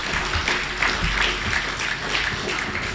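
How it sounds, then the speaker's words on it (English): Audience applause at a skills competition closing ceremony, a steady wash of many hands clapping at moderate distance, continuous through the brief span with no voices. "Give him a round of applause."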